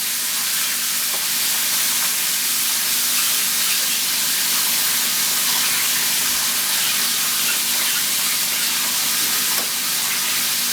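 Chopped onions sizzle and fry in a hot pan with quail, a steady loud hiss that stays level throughout with no talking.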